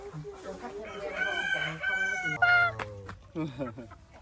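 Bird calls ring out at a beachside resort in Nha Trang, a series of bright, strained crowing and clucking notes close by, with people talking in between.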